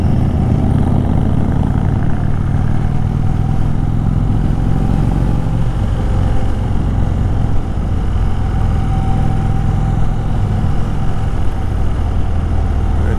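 A 2018 Indian Chief Dark Horse motorcycle engine drones steadily while riding at speed, a loud low rumble with wind noise that stays even throughout, no speech.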